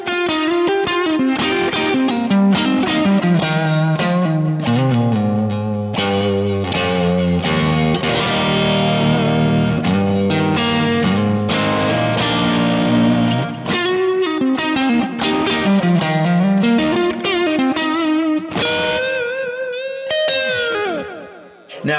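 A Stratocaster electric guitar plays through a Kemper Profiler Stage with a Tube Screamer overdrive, giving a loud, distorted tone over a continuous run of notes, chords and bends.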